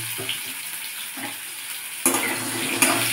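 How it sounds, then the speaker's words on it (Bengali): Diced potatoes frying in a pan for sago khichri: a soft sizzle and stirring, then a sudden louder burst of sizzling about two seconds in that keeps going to the end, no talk. "আলুটাকে ভেজে নেব।"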